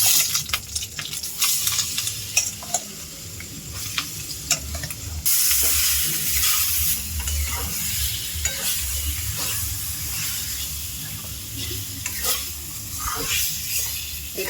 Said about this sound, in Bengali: এটাকে একটু শুকনো শুকনো করে ভাজতে হবে